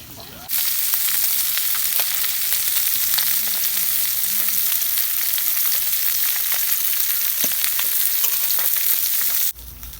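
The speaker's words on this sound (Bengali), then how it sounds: "মাছ ভাজা হয়ে গেছে" Chinese puti fish fries in a pan, a loud continuous sizzle that starts abruptly, holds steady for about nine seconds and then cuts off.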